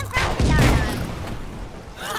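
Several cannons fire a rapid volley in the pixel-art pirate game Pixel Piracy, giving loud booming blasts that overlap and then fade, with a voice talking over the gunfire.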